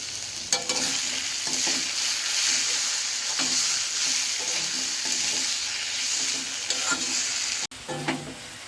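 Taro greens frying with a hilsa fish head in a pan, a steady close sizzle with repeated scraping stirs, cut briefly by a sharp clatter near the end.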